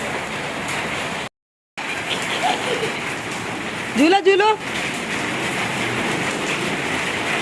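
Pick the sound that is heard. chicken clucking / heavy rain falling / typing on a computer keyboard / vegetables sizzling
heavy rain falling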